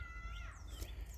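Pollen-covered pet cat in a garden orchard giving a short, close meow with rising and falling pitch over a low outdoor rumble.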